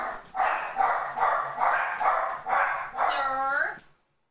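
Dogs bark repeatedly at a door indoors, a steady run of loud, close barks about every half second, ending in a drawn-out whine or yelp, with a voice talking faintly underneath.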